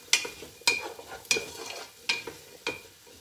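Chopped onions frying in a pan are stirred with a spoon, five sharp scraping strokes at a steady rhythm over a faint sizzle, close and clear with no voice.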